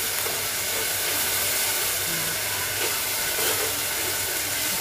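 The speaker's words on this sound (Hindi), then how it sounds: "इसको खूब पकने देंगे, पकने को छोड़ देंगे।" Kadai chicken masala paste simmers in a pan with a constant loud hiss and steamy sizzle, steady throughout and without speech.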